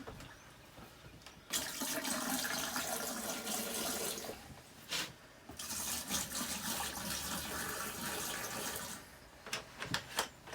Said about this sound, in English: we're going to fill about 2 or 3 cups in each one of these drains